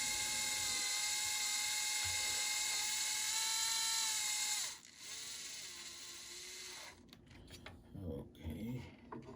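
A small electric screwdriver whines at high pitch while backing out small screws on a Yamaha A-520 amplifier, a steady buzz that drops off midway, followed by quieter fiddling and light handling noises.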